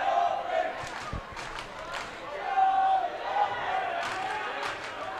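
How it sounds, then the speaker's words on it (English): A crowd chants at a box lacrosse game in an indoor arena, rhythmic and fairly distant, heard under a play-by-play commentator's voice with occasional ball or stick thuds. "I'm trying to decipher what the crowd is chanting now"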